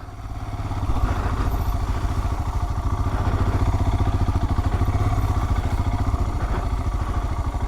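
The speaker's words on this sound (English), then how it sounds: "Really cannot change much direction with the rear wheel just spinning and slipping." A Royal Enfield Himalayan's engine revs steadily as its rear wheel spins and slips in dirt off road, a loud continuous thumping single-cylinder drone with a rhythmic pulse, close to the mic throughout.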